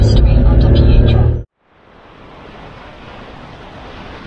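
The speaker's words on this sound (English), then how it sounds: "The waves crashing" Ocean waves surging against the rocky Corsica coast near a lighthouse trail, a broad steady wash of surf that swells gradually after a loud gusting burst cuts off abruptly.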